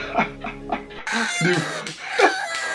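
A chicken clucks in short bursts, three quick clucks followed by louder squawking calls, heard close by over a faint background hum with no speech.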